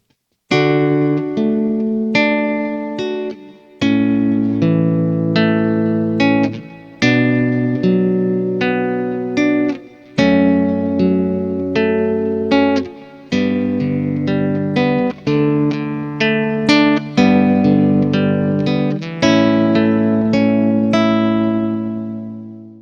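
A lone acoustic guitar plays Canon in D, each arpeggio opened with a plucked chord using thumb and two fingers, in steady phrases with brief pauses between them, close and clear without any talking.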